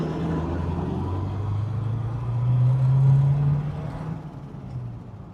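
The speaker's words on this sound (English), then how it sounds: "Just give you an idea how well it tracks down the road." A 1948 Buick Super woody wagon drives down the road, its engine a steady low rumble that swells as it draws close and passes, then eases off.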